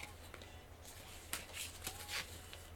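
Tarot cards shuffled and pulled from a deck, soft crisp riffling bursts and light flicks in quick uneven clusters, close but faint over a low background hum.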